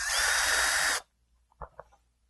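A power drill whirs loudly for about a second while backing Phillips screws out of a 2000–2002 Chevy driver's door panel, then stops, leaving a few faint clicks and handling taps.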